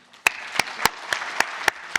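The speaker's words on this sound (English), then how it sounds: "please join me in giving a warm round of applause to our Financial Secretary, the Honorable Paul Chan" Sparse, evenly spaced hand claps, about seven sharp strikes over two seconds, from an audience greeting Financial Secretary Paul Chan at a business summit keynote in Hong Kong; close and crisp over a soft room wash.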